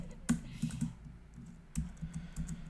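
An email address is typed on a computer keyboard. A handful of crisp, close key clicks come in two short bursts with a brief pause between them, quiet and isolated with no voices.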